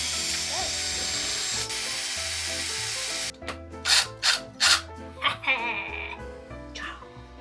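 A threaded topper being screwed onto the top of a handmade wizard staff; a few loud close scraping and grinding twists in quick bursts, following a steady buzzing tool-like drone.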